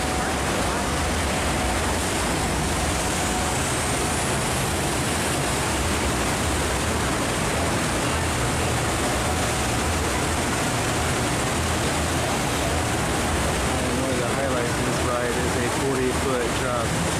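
Heavy, continuous rushing water from the Infinity Falls water ride at SeaWorld fills the whole stretch as a loud, even roar. It holds steady throughout with no clear pauses.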